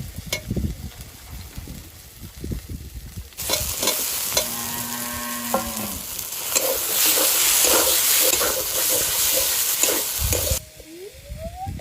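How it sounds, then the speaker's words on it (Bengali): Tomatoes stirred into fried spices in a pan for rupchanda fish curry, producing a loud burst of sizzling and steam hiss with scraping stirs. Quieter handling sounds come before and after it. "টমেটো দিয়ে একটু নাড়াচাড়া দিয়ে এবার জল দিয়ে দেবো"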